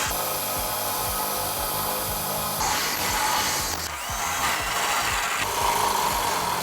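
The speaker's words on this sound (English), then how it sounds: "using a 5/8 drill bit, we're going to drill all 4 of our holes" Continuous grinding, whirring noise of a 5/8 drill bit boring into the metal frame of a 2009 Ford Crown Victoria for a trailer hitch, close and loud, with shifts in pitch as pressure changes.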